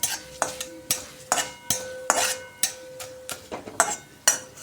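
A spatula scrapes rhythmically around a pan as food is sautéed in a little oil, each stroke a sharp, close scrape over a soft, steady sizzle, with no talking.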